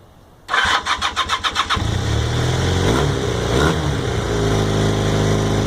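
A 1980 Honda CM400T motorcycle with choke applied and freshly cleaned carburetors cranks with a quick rhythmic starter churn, then catches and settles into a loud, steady idle close by.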